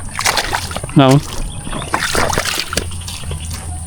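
Irrigation water runs from a canal into a rice field, a steady trickling and splashing flow close by, with a person talking over it.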